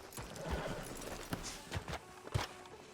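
Horse hooves clop on ground in an uneven walking rhythm in the video game Red Dead Redemption 2, a few heavier thuds standing out over a faint background hum.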